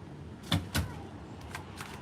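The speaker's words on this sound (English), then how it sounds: "Close that door, please." An indoor door is pushed shut, giving two quick soft thuds close together, followed by quiet room tone and a couple of faint clicks.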